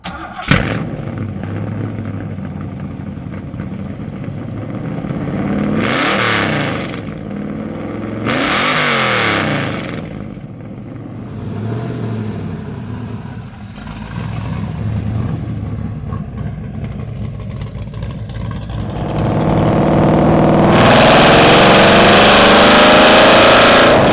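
A 1970 Ford Mustang Mach 1 with a stick shift, restored after being saved from the crusher, rumbles and revs on a cruise, with several surges of acceleration and a loud roar near the end.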